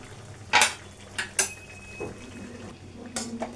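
A lid is set onto a pan of spicy bottle gourd curry with water added, making a few sharp metallic clanks and clatters against a quiet kitchen background.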